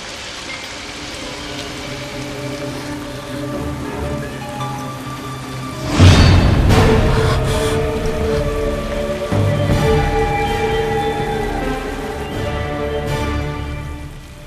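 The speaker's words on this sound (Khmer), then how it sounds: "ឥឡូវនេះកំពុងតែភ្លៀង" Heavy rain pours steadily in a dense hiss, with a louder surge of downpour midway that stays strong to the end.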